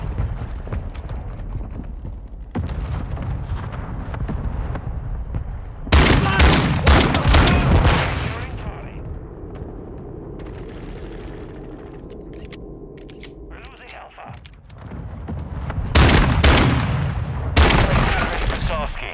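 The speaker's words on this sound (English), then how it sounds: "Friendly mortar strike inbound" Explosive booms and gunfire crash through a match of Call of Duty Modern Warfare II during a friendly mortar strike, loud bursts hitting around the middle and again near the end, with radio-style voice callouts between them.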